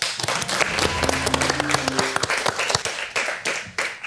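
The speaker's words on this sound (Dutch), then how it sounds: "mag ik een heel warm applaus voor Brittany Lindo" A theatre audience breaks into warm applause for a performer, with loud, dense clapping throughout and a few brief tonal notes sounding behind it partway through.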